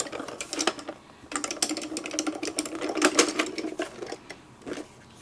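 A Diamond Press die cutting machine runs through card dies with rapid clattering mechanical bursts and a brief pause, busy and close, with no talking.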